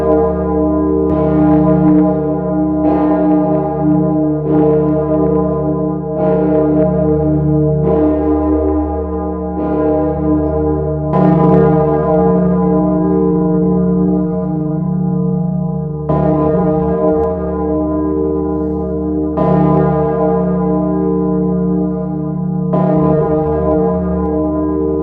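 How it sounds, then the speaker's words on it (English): Church bell striking twelve, heard as a series of loud, resonant strokes at a steady pace of about one every two to three seconds, each ringing on with a long humming decay beneath the next. "The bell struck 12."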